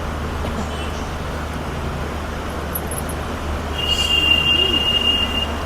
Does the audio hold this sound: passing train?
yes